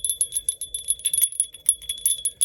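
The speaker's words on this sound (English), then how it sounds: "Yeah, I got those silver bells." Small silver jingle bells shaken by hand indoors, a rapid irregular tinkling that repeats in quick bursts, close and fairly quiet, with no talking.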